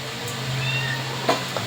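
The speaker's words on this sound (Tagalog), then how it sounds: "yung mga alaga kong pusa, nagkakagulo na" Pet cats meow excitedly over steady background noise, with a couple of short, faint calls coming in quick succession near the end.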